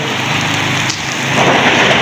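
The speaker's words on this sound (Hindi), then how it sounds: "बारिश बहुत तेज़ थी गई है और बहुत ही तेज़ थी गई बारिश" Heavy rain pouring down in a downpour, a dense, loud, continuous hiss of drops striking surfaces close by, swelling slightly toward the end with no voices.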